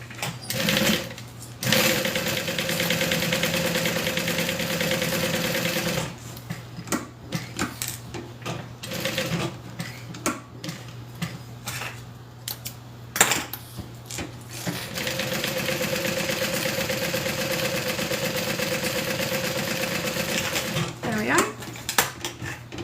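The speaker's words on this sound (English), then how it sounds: "I'm just gonna sew around all 4 sides and then add the hardware" A sewing machine stitches around all four sides of a simple beginner project, a close, steady whirring hum in long runs broken by stops, clicks and a person talking between seams.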